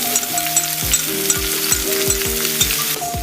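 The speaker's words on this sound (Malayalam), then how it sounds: "വഴറ്റി ഒന്ന് നല്ലോണം വഴറ്റുക." A spiced mixture seasoned with salt is sautéed in a pan, giving a steady close sizzle with regular scraping strokes of a spoon stirring through it, alone with no voices.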